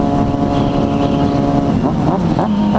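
A Yamaha WR250R motorcycle pulling away at night, its engine a loud, close, steady drone that shifts in pitch as it accelerates.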